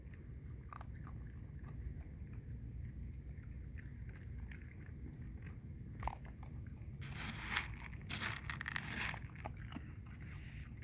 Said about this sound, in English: That's a dog biscuit he's eating right there.